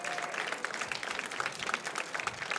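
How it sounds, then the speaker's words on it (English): Audience applause at the NATAS Northwest Gold and Silver Circle ceremony, a dense, steady wash of many hands clapping that fills the room evenly for a few seconds, moderately distant and without speech over it. "Give them a big round of applause."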